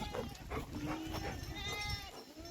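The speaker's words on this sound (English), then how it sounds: "Who let all the goats out?" Several goats bleat on a small farm after breaking through a fence, repeated cries close by, with rustling and outdoor noise around them.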